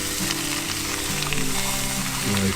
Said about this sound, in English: that sizzle sound is terrific